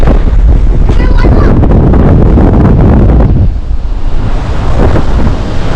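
Strong, cold wind buffets the microphone with a loud, steady roar at a playground, a brief voice rising early on, then continuous gusting rumble throughout.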